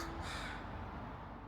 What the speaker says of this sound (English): The crows say no.